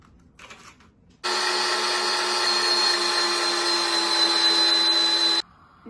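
Electric mixer whirring at a steady high pitch for about four seconds, close and loud, starting abruptly and cutting off cleanly.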